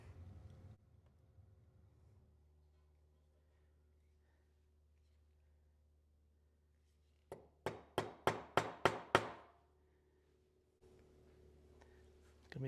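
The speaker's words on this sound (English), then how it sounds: "christening my new hammer." A new leathercraft hammer strikes seven times in quick succession, sharp loud blows that start after a long quiet stretch with low background hum.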